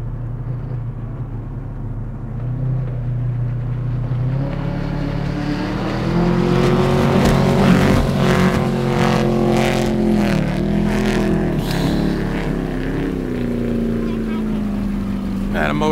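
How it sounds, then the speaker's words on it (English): A speed skiff's motor drones loudly and close, its tone rising and wavering as the engine starts to break up. Water rushes underneath, and voices talk over the engine. "Yeah, the motor's starting to break up now."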